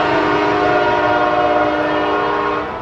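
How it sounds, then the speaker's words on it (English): A train passes on a track just beyond a stand of trees, sending a loud, sustained horn tone with a rumbling base through the whole clip, easing off slightly at the end. "there's a train coming right on the other side of those trees."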